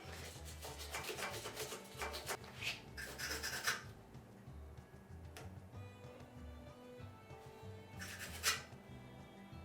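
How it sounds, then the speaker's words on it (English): A stiff brush scrubbing dirt off a weld on a Kaymar dual swing-arm bumper of a Toyota Land Cruiser, with close, rasping bursts of strokes, a pause, then a final scrub. "I'll brush some of this dirt off of it."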